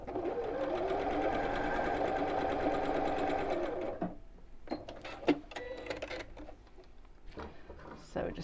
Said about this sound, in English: And then the same with these 2 pieces, right sides together, and we'll sew.